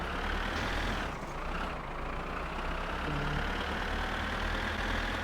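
A tractor engine runs steadily in the My Summer Car video game, a continuous loud low rumble that idles and drones throughout with slight shifts in pitch, with no one talking.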